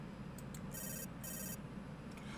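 A phone rings in the game Later Daters, a few short electronic chirps followed by two longer bursts of bright ringtone, all at moderate volume over a faint background hum.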